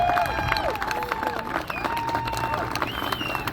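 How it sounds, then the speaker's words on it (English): Energetic applause and cheering from a crowd at an Injured Workers Day gathering, with voices talking and calling out over the clapping throughout. "Let's give them a big round of applause for coming here."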